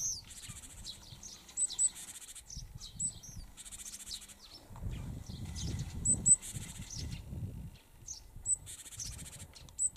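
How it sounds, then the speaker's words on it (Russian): Small birds, including a yellow-breasted one and sparrows, chirp and sing outdoors in late snow at a former camp, with repeated bright, high tweets in bursts over faint rustling background noise. "Вот и здесь птички радуются жизни."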